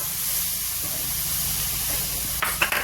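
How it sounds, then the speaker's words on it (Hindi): Masala with tomato paste frying in a pan, a continuous bright hiss and sizzle throughout, with a few clinks and stirring scrapes near the end, no speech. "अभी इसको भी हम इसी मसाले के साथ भून लेंगे।"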